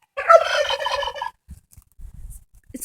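A turkey lets out one loud, close gobble, followed by quiet scattered rustles and small sounds.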